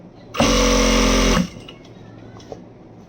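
A sewing machine stitches a school skirt in one loud, steady burst of about a second, then stops, leaving a quiet room.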